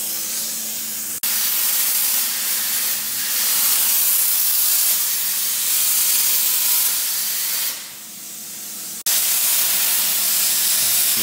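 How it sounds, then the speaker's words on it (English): A Hypertherm plasma cutter cuts the heads off hardened, beveled steel bolts, giving a loud, steady roaring hiss that starts abruptly, runs for several seconds, dips briefly and then resumes. "We're now going to the hypertherm plasma cutter to cut out the heads of these bolts"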